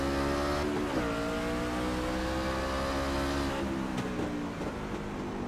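NASCAR truck engine revving at Martinsville Speedway in iRacing, a steady loud drone that shifts pitch as the truck accelerates and lifts, with other trucks audible around it and no talk.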